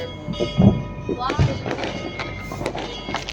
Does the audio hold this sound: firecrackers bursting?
yes